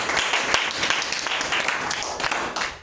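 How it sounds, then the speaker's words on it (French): A church congregation applauds, with dense sustained clapping from many hands and a few voices mixed in, fairly loud and near, easing off at the end. "Acclamons le Seigneur pour ça."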